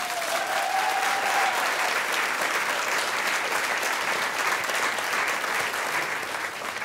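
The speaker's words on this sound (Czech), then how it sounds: "Jako tleskáte krásně a nechcete počkat" Sustained applause from a theatre audience at a small venue, dense steady clapping filling the whole stretch at an even loud level, with no speech over it.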